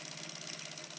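A sewing machine stitches down a laminated cotton strap, its motor giving a steady, even whir for about a second with no pauses.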